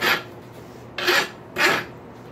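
A metal file rasps across a hot rail spike in three separate, evenly spaced strokes, each a loud, gritty scrape with short pauses between and no talking.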